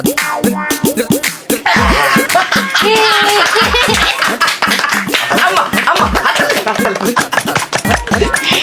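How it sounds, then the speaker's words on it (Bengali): Hand clapping, a quick run of sharp claps mixed with laughter and chatter from people nearby, fairly loud and close. "তালি ভালো করছি না মায়া?"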